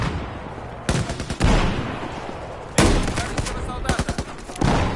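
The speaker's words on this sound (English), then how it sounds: "I'm just shooting through the smoke." Gunfire in Battlefield 4 conquest multiplayer: several loud, sharp bursts of automatic fire and single shots cut through a busy battle din, with a voice talking over parts of it.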